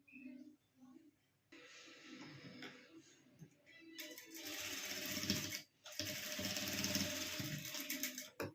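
A sewing machine stitches a net puff sleeve in short bursts, first quiet and halting, then running in longer loud, rapid whirring runs with a brief stop between them; someone speaks faintly at the start.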